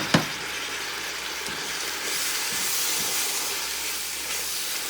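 Beef broth hissing and steaming as it hits a hot pot to deglaze the bottom while making chili, a sharp splash at the start followed by a steady, close sizzling hiss.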